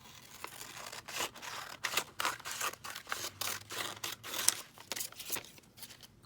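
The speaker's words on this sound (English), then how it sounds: "Let me cut that and see what happens." Scissors snip through paper while a junk journal is being made, giving a quick irregular series of crisp cuts and rustles, close and fairly quiet, with no talking.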